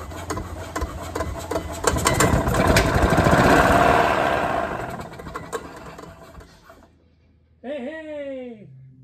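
The engine of an early-1990s Club Car Carryall utility vehicle cranks on a jump pack. It catches and runs in a loud, rough, rattling burst that swells and then fades away. A voice follows after a short pause.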